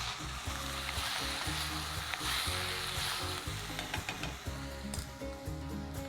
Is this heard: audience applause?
no